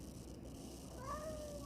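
A domestic cat gives a soft, drawn-out meow in the latter half, faint and fairly close against a quiet background with no talking.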